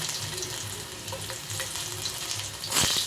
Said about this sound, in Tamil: கடுகு நல்லா பொரிஞ்சதும் கொஞ்சம் போல் பூண்டு